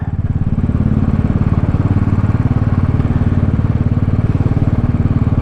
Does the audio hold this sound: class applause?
no